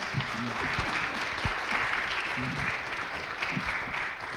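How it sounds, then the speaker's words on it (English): An audience at a live church panel discussion on political violence applauds steadily for the speakers, a dense, even clapping that holds at moderate loudness throughout. "Give them a round of applause."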